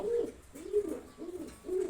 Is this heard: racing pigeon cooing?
yes